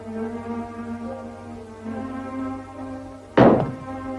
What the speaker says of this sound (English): Toss your gun.